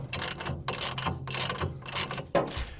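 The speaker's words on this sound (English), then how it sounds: "Now it's time to tighten your crossmember brackets." Wrench tightening crossmember bracket bolts on a Truxedo Deuce truck bed cover, a close series of quick ratcheting clicks in short bursts with brief pauses, ending in a sharper metallic knock.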